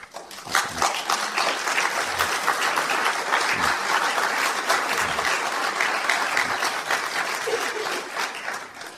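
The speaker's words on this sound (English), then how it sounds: "I'll take that applause for James" Sustained applause from a lecture audience at a Jung society evening, steady dense clapping filling the room for the full stretch, close and even, with no talk over it.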